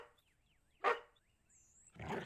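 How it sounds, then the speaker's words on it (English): A dog in a video game lets out one sharp bark followed by a rough burst near the end, with quiet gaps and faint game tones between. "Control your animal, would you? The dog doesn't seem to care for you."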